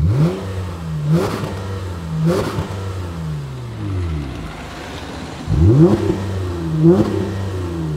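A Volkswagen Golf 2 GTI 16v engine revs hard in repeated bursts, each climbing quickly and bouncing off the rev limiter before dropping back, close and loud.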